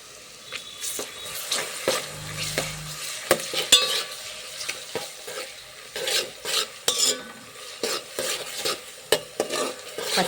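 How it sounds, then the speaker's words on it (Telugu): Ginger garlic paste frying in a pan for a village-style potato kurma, with a soft sizzle under repeated scrapes and taps of a spatula stirring against the metal, plus one brief low thud early on. "పచ్చివాసన పోయేంత వరకు అల్లం వెల్లుల్లి పేస్ట్ని ఫ్రై చేసుకోండి."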